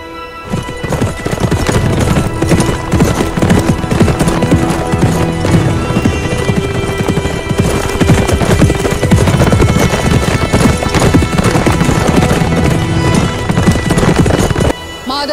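An armored horse's hooves clip-clop steadily at close range, with occasional neighs and whinnies, all under loud, continuous music that runs throughout.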